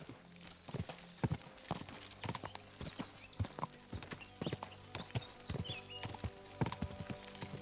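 Horse hooves clop in a steady galloping rhythm while riding in Kingdom Come: Deliverance 2, clear, repeated beats over faint background game sound.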